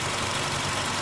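A 2015 Toyota Innova engine idles steadily, a loud, even mechanical drone with a low, rhythmic pulse and no voices over it.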